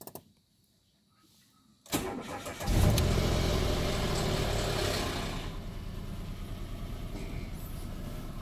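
A Mitsubishi Mirage G4 with an electronic steering warning fault cranks and fires after a quiet moment, then settles into a steady, close idle that continues to the end.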